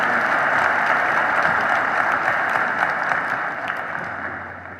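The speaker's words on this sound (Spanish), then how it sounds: "Recibamos con un fuerte aplauso al ingeniero Juan Alberto González." An audience at a business technology talk in Puebla applauds to welcome a Microsoft engineer onto the stage, a loud, dense and continuous clapping that fades a little toward the end, with no voices heard.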